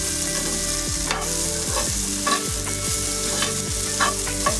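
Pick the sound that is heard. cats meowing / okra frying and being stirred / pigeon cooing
okra frying and being stirred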